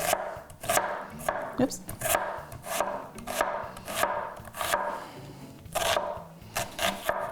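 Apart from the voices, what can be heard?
chopping garlic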